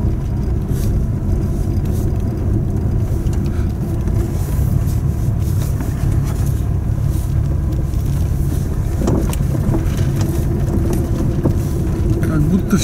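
Car driving slowly through an empty, quiet village street, a steady low engine and road rumble with some wind buffeting, continuous and close throughout.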